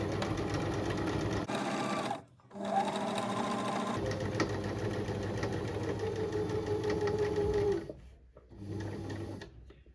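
A sewing machine stitches a Chloe-style tote bag, running steadily and close up in long continuous bursts broken by two brief pauses.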